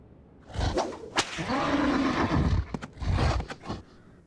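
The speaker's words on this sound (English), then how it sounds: "He whips the horse and the horse goes neigh." A sharp whip crack followed by a long, loud horse whinny from The Simpsons: Tapped Out video game, then a few more snapping cracks and a short snort near the end.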